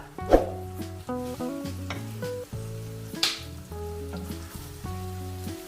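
Potato and egg cook on a high flame in a pan, giving a continuous sizzle and stirring scrapes under steady melodic background music.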